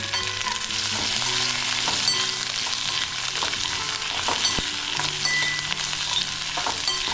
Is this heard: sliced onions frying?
yes